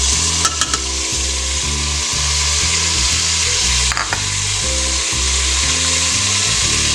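Meat sizzling and frying steadily in a pan for aloo gosht as red chilli goes in, a loud continuous crackle broken by a few sharp scrapes and clinks of a spoon against the pan.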